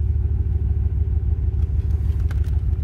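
A blower motor in a 2007 Chevy Silverado 1500 runs with a steady, close, low droning hum under the cab's HVAC airflow, continuous with no talk.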